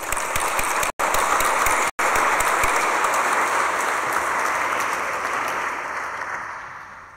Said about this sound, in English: and we'll just give our colleagues a round of applause.